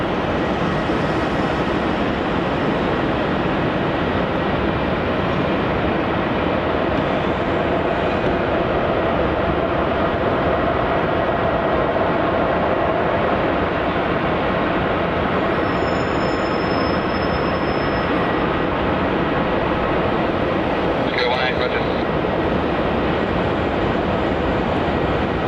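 A Qantas Link jet departing Melbourne Airport for Canberra roars loudly and continuously from the runway, a broad, steady engine rumble with no talking over it.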